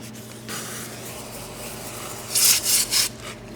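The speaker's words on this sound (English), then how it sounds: "What we're doing is we're getting rid of any of the harsh dirt, oxidization. We're gonna polish it out" Oxidized car exhaust tips are scrubbed to strip off dirt and oxidation before polishing, making a steady close rubbing scrape that rises into three quick harsher strokes near the end.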